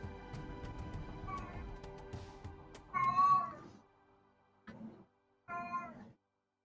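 An old cat meows several times: a long wavering cry under background music, then two shorter, separate meows, close and clear, with silence between.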